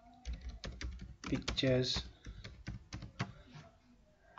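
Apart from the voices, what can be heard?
typing on a computer keyboard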